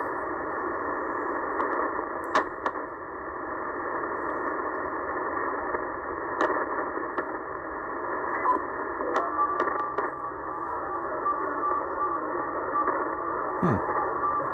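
Steady shortwave radio static with crackling crashes on a Tecsun PL990X during a band scan between 6000 and 7000 kHz, a continuous hiss with sharp clicks and a brief sweeping tone near the end.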